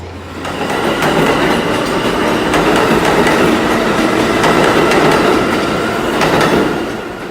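A subway train runs loud and close on the rails, with a continuous roaring rumble, rhythmic wheel clatter and faint squeals, steady for several seconds before easing slightly at the end.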